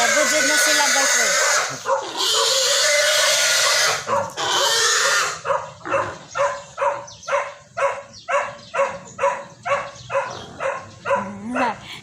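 A pig about to be roasted squeals and shrieks loudly at close range in long cries, then in a rapid run of short, rhythmic squeals, with people talking nearby.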